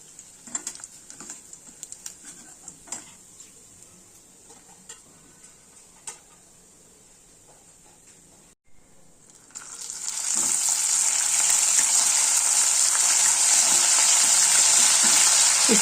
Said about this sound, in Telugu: వేడెక్కిన నూనెలో ఉడకబట్టి వడపోసి పక్కన పెట్టుకున్న రొయ్యల్ని కొన్నిగా వేసి దోరగా వేయించుకోవాలి